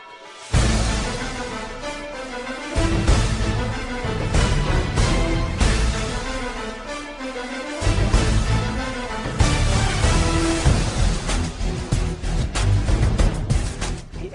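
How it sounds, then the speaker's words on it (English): Thursday Night Football theme music from the NFL Network, a loud orchestral rock piece with pounding drums, brass and bold, sweeping hits, playing continuously without talk. "Up next is the NFL Network's Thursday Night Football."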